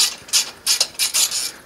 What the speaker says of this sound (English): Use two speed wrenches, you go twice as fast.